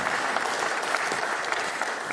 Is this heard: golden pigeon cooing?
no